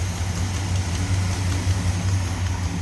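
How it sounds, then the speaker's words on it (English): Steady low rumble of a Chevy 350 V8 idling smoothly in a 1963 Ford F-100 custom cab pickup with headers and a Quadrajet carburetor, running evenly and close up with no talk. "Nice smooth running engine."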